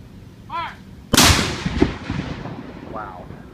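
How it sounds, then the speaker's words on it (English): A historic artillery cannon at the Drennen-Scott house fires once outdoors, a sharp, loud boom followed by a long rumbling decay, with birdsong chirping faintly before and after. "I get a kick every time they shoot that cannon"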